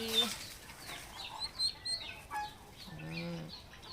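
Chickens clucking and calling in short bursts, with a few higher squawks and a longer rising call near the end, moderately close, while being sold.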